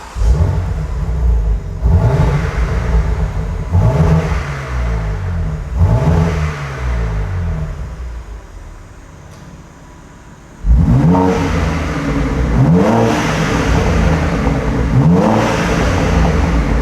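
A BMW G80 M3 with a Scorpion GPF-back exhaust revs repeatedly while parked, each blip rising in a loud, raspy sweep and falling back to a rumbling idle, with a lull mid-way before more rapid revs.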